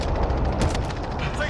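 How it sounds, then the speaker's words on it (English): Airstrike explosions and gunfire in Call of Duty: Modern Warfare, a dense, continuous barrage of rumbling blasts and rapid shots that stays loud throughout, with a sharper burst about midway. "airstrike coming in"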